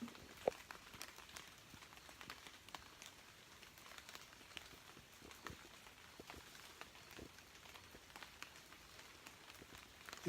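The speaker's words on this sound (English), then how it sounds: "You hear the sound of the rain." Rain falls steadily through woodland, a dense patter of drops on leaves and ground with scattered louder plops close by, continuous and moderately faint for the whole stretch with no voices.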